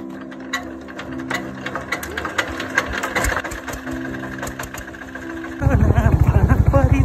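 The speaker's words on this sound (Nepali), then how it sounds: "हाम्रो पिते दाइले स्टार्ट गर्न लाउनु भएको छ यो फेरि यस्तो वाला सिस्टम हो" A tractor in rural hill country being started with rattling, clattering cranking noises, then the engine catches and settles into a loud, rapid, steady diesel thumping.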